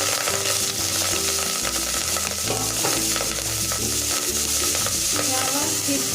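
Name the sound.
rice being added and stirred in a pot for zarda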